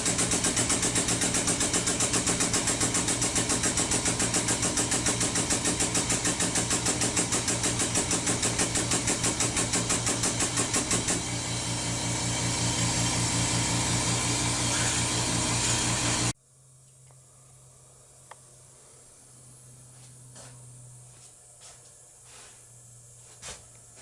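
An air compressor feeding air to a 20-ton Pittsburgh jack in a hydraulic press runs loud and steady with a rapid chugging pulse, then cuts off abruptly, leaving quiet workshop sounds and a few faint clicks.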